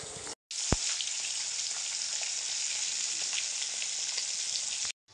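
Meat curry fries in a pan with a steady, close sizzle that runs almost unbroken, with only two short silent gaps near the start and end.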